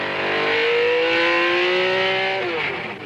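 A race car accelerating hard up a mountain road in the Targa Florio area, its engine a loud, close, rising drone that holds for about two seconds before the pitch drops sharply, as if shifting gear.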